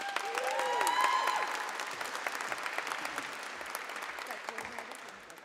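Warm applause with scattered cheers from a youth awards audience, loudest at the start and gradually thinning, with a whistle-like whoop early on.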